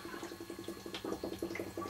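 Liquid trickles and gurgles steadily through tubing into a secondary fermenter during dry hop recirculation for homebrew beer, a faint, close, continuous bubbling flow with rapid rhythmic pulses and no talk.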